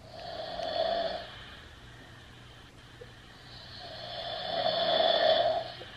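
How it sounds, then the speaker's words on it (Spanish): Two extra-loud recorded snores, each a long rasping drone, separated by a quieter breath-like lull. "ronquidos extra fuertes"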